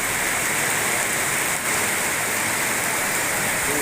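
A downpour of heavy rain in Indonesia, a loud, continuous hiss of drops close by, unbroken across the short stretch with no voices.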